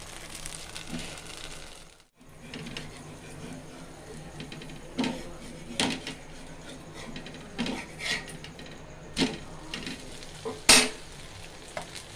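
Dosa batter mixed with modakathan greens cooks on a pan, giving a steady sizzle broken by repeated scraping and clicking strokes from a spatula and occasional sharper taps, close and moderately loud.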